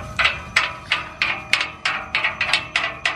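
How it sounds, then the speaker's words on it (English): A ratchet fitted with a 10 mm deep socket tightens bolts on a Coyote-swapped Mustang, clicking in quick, close, evenly spaced bursts of about ten sharp clicks with no talking. "Putting in the last bolts"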